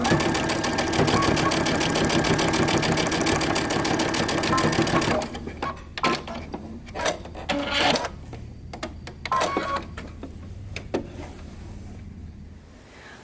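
A sewing machine runs a 5/8-inch seam on a moto jacket in one steady, rapid stretch of stitching, then stops, leaving scattered clicks and fabric handling under a voice.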